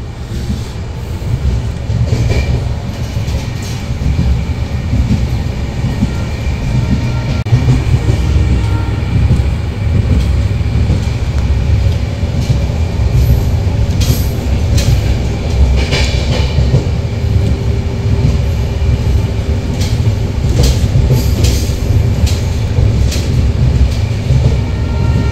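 The Tourist Express with a Vistadome coach runs along the track between NJP and Alipurduar, a loud, steady rumble heard from inside with rhythmic wheel clatter and occasional sharper rattles throughout.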